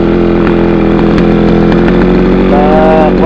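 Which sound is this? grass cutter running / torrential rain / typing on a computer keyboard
grass cutter running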